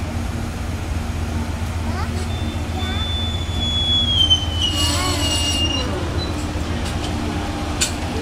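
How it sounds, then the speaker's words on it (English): A train rolls along with a steady low rumble, a drawn-out high wheel squeal and some brief brake hiss, heard from nearby at a station. "There's the train."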